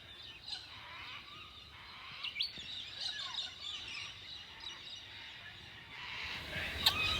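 Birds chirping and calling in the morning bush near Byron Bay, Australia, at a moderate distance over a steady outdoor hiss, with a few sharper tweets standing out near the end.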